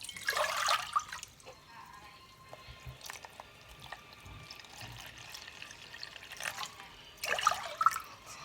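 Clean water, about half a litre, pours into a pot for a Thai dessert, with a splashing gush at the start, a quieter stretch, then another brief pour near the end, close by.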